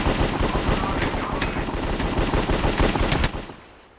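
Rapid automatic gunfire from Minecraft Cops and Crims rattles loudly and continuously in close bursts for several seconds before cutting off.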